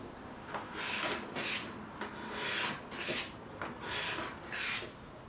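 A hand plane shaves a beveled edge on figured maple in a series of about five rhythmic rasping strokes, each a short scraping swish with brief pauses between, close and fairly quiet.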